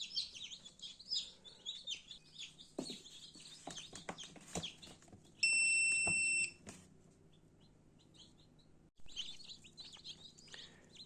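A crowd of newly hatched chicks peeps busily and continuously inside an incubator, high bright chirps overlapping throughout, with a steady electronic beep sounding for about a second midway.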